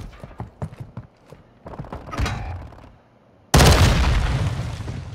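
A thrown Semtex grenade in Call of Duty: Modern Warfare II bursts into a sudden loud explosion after scattered footsteps and brief shouting, its blast ringing out and slowly decaying.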